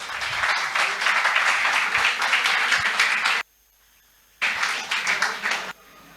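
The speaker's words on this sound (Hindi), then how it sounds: "हमारे कवि अवनीश पाठक सूर्या जी, एक बार ज़ोरदार तालियां।" Audience applause welcoming a poet at a college kavi sammelan, dense loud clapping that drops out for about a second, then resumes briefly before fading.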